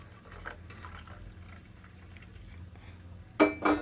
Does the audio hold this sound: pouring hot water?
yes